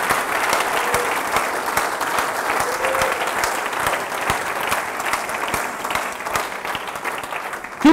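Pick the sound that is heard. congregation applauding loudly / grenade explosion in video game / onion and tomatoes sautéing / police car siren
congregation applauding loudly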